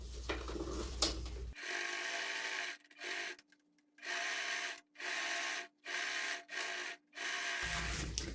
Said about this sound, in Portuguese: Agora, nós vamos passar uma costura de acabamento.